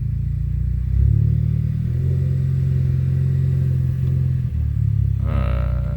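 A DSG7 DQ200 car with a new clutch drops into reverse and starts rolling, a steady low engine rumble holding close and loud, briefly dipping near the end before a brighter whine rises.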